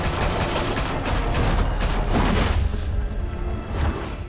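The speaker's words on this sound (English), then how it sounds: "Open fire!" Gunfire in Batman: The Telltale Series video game, a loud, sustained burst of rapid shots with several sharper cracks layered over a dense rumble.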